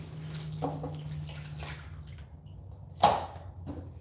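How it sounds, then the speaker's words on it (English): Lemongrass being rinsed under running water, with soft intermittent splashing and trickling close by and one brief louder splash near the end, fairly quiet overall. "I'm just going to wash this lemongrass."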